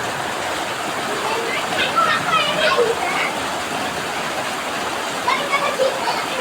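Constant dense hiss of heavy rain pouring down, with a few faint voices briefly audible beneath the downpour.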